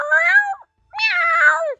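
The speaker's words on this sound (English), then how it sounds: "Meow!" A wounded Nekomata cat spirit meows in the video game Dairoku: Ayakashimori, two loud, drawn-out meows separated by a short silence, the second slightly longer and wavering.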